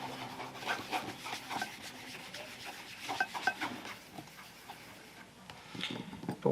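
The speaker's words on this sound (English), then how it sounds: "I'll go real lightly over the entire shoe, just putting a thin little layer of wax" Light wax being rubbed in a thin layer over a leather dress shoe, a soft, quiet, uneven brushing rub with small scuffs and taps, steady and close.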